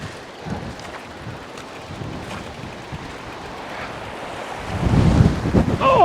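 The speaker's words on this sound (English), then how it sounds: "You might be able to hear, but there's actually a lot of wind today as well." Strong gusty wind buffets a microphone on a remote Cairngorm mountain summit, a steady broadband roar that swells louder toward the end, with no talking.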